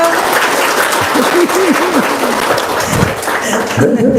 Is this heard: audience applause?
yes